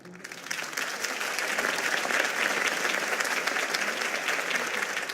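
A crowd applauds a campaign speech in a Batman video game: steady, dense clapping that rises quickly and holds loud and even throughout, with no voices over it.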